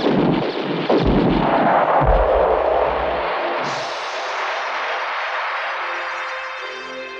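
Several heavy gunshots boom in quick succession in a Hindi film scene, followed by a long, echoing rumble that slowly fades.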